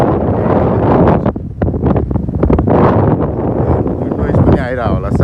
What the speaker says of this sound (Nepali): विन्ड नोइज पनि आइरहेको होला सायद